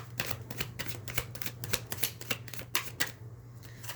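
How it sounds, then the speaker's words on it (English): Rapid, crisp riffling of cards repeats in quick bursts, close to the microphone, over a faint steady hum. "there's way too many cards falling out to take the next card, so I'm going to shuffle it again"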